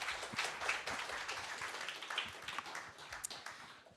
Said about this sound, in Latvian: Sagaidām ar aplausiem, dāmas un kungi.